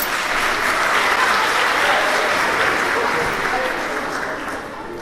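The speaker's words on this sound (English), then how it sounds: "When Mr. Kutu walks in, we all need to clap, okay?" Audience applause at a 6th grade awards ceremony at Pelham Memorial School as Mr. Kutu walks in, loud, dense and steady for several seconds before easing off slightly, with voices mixed into the crowd.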